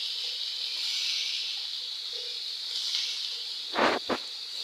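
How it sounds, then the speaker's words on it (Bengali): Freshly cut bottle gourd hits hot oil in a pan, producing a steady close sizzle and hiss that holds throughout, with a couple of short louder bursts near the end as the pieces settle. "তো আমি এখন দিয়ে দেবো কেটে রাখা লাউগুলো।"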